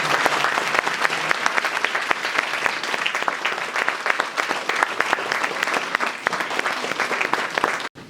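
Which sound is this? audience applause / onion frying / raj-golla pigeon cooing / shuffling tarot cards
audience applause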